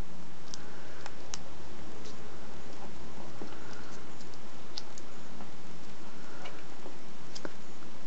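Aluminium foil crinkles and crackles as it is folded over and over into a flower stem, giving a steady run of small, close ticking crinkles with no talking.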